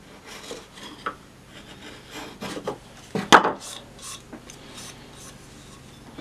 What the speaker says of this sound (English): Just going to use my chisel to clean out the bottoms of the dados